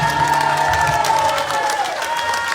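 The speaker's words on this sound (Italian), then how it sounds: "applauso allo sposo che è stato." Lively crowd applause and cheering for the groom at a Sicilian wedding serenade, dense continuous clapping close by with some excited voices mixed in throughout.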